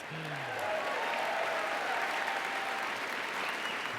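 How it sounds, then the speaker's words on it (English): A large convention crowd of Liberal party supporters in Montreal gives steady, sustained applause that stays dense and even throughout, with a brief voice at the start. "Give yourselves a huge round of applause."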